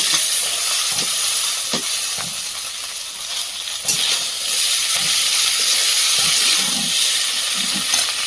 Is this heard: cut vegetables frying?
yes